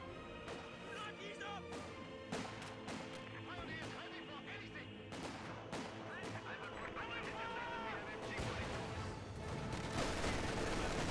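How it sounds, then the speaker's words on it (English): Grenadier rifle and machine-gun fire in a Company of Heroes 2 battle, dense rattling bursts and scattered shots over rumbling battlefield noise, with a voice speaking now and then through the clamor. "Grenadiers firing away."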